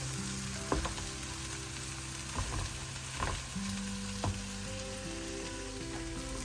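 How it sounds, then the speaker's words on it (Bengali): Snake gourd frying in a pan with onion and egg, a soft continuous sizzle with occasional spatula scrapes and taps, fairly quiet beneath a steady background hum. "একদম খুব সুন্দর ভাজা ভাজা হলে তারপরে এটা উঠাবো।"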